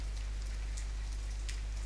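Rain falls steadily in the survival game The Forest, a continuous soft hiss with a few brief heavier patters, faint and alone over a low steady hum.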